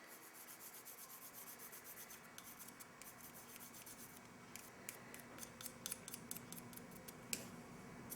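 A knife blade scrapes along an oboe reed in quick, repeated short strokes, a faint close rasping rhythm in a quiet room with no talk.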